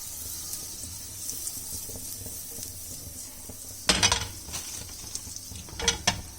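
Steady soft sizzling of bread slices frying in butter fills the background, with scraping stirs and a few clinks of a utensil against a pan.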